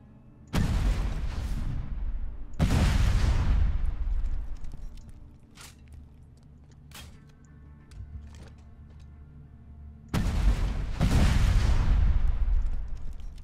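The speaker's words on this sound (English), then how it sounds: "we're going to verify how good a rocket launcher we've got in our hands" Rocket launcher shots and explosions in Borderlands 2, three loud booming blasts with long rumbling decays, separated by quieter stretches with a few sharp clicks.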